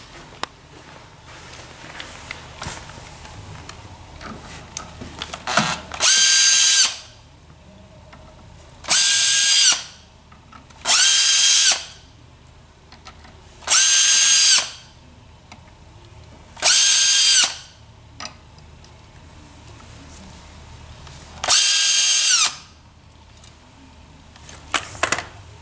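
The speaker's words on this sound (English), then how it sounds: "we need to simply remove 6 screws on the back side of that mounting arm" A power drill backs out the six screws on the rear of a ZeroG 5.0 massage chair's massager mounting arm, in six loud, close whirring bursts of about one second each, separated by quiet pauses with faint handling sounds.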